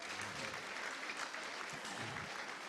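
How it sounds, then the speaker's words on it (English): Sustained applause from a dinner audience at a spring reunion event, a dense, steady wash of clapping hands that stays even and fairly loud for the whole clip. "Give yourself a round of applause."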